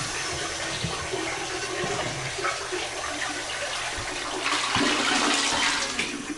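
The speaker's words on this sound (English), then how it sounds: "Toilet flushes without difficulty." A household toilet flushes in a bathroom, a close, continuous rush of water that swells toward the end as the bowl drains and refills, with no voices.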